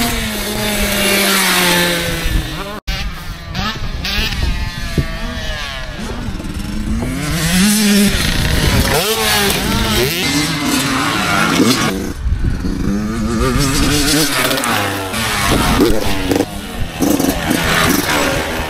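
A motorbike engine drones steadily at a distance, its pitch rising and falling as it accelerates, with a brief sharp click early on.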